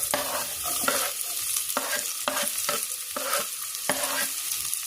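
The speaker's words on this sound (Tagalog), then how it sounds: "Silo na natin yung sibuyas, luya." Onion and ginger stirred and frying in a pan with slightly burnt garlic for chicken arroz caldo, with a steady sizzle and repeated scraping stirs of a utensil close by, no talking.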